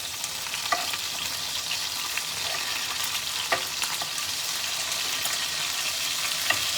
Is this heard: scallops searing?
yes